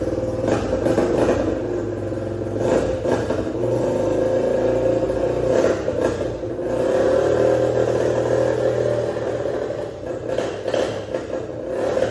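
A restored motorcycle engine, a pit bike, Honda Bali or Vespa, runs after being primed with fuel, producing a steady close rumble with rising and falling revs and some mechanical clatter over about twelve seconds.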